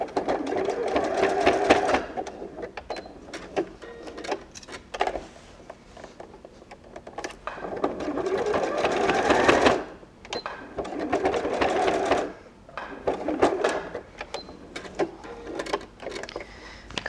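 Sewing machine zigzag-stitching to tack fabric pieces in place for an overnight bag, running in several rapid rattling bursts with short pauses between, close and fairly quiet, no talk.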